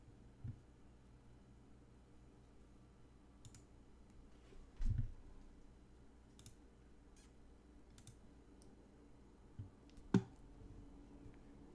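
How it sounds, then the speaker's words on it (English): Menu selections clicking in the video game Beyond Good & Evil: a few soft, sparse clicks spaced seconds apart over a faint low hum, with no talking. "Do you hear the menu clicking?"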